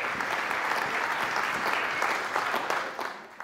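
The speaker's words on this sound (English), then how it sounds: "Round of applause." A wedding reception crowd applauding the newlyweds after a toast, a dense, steady burst of clapping from many hands that fades slightly at the end.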